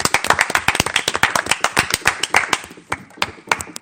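A studio audience claps for Aurélien, a few sharp, uneven hand claps rather than a full ovation, loud and close, thinning out toward the end.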